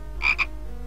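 Two short, bright croaks from a frog in the point-and-click game Simon the Sorcerer, the second a touch shorter, heard alone over a low steady background hum.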